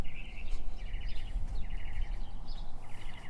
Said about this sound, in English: Hear them birds are singing.